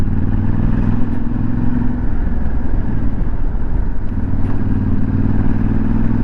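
A Yamaha Ténéré 700 motorcycle engine pulls hard in third gear as the throttle is twisted, a loud, steady, close rumbling drone that holds throughout with some mechanical clatter.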